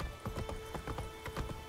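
Horse hooves clip-clop in The Witcher 3 video game, a steady run of distinct, fairly loud footfalls over a constant ambient background with no talk.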